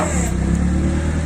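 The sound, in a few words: forklift raising its forks, engine running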